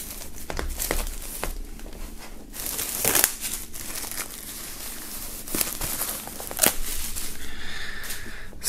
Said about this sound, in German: wir mal die Folie aufschneiden. Hier abmachen.